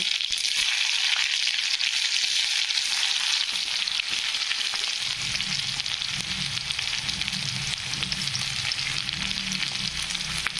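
Onion frying in hot oil with mustard seeds and cumin as a tempering for a simple Maharashtrian usal: a steady, loud hiss of sizzling throughout, with a lower bubbling crackle joining after the onion goes in.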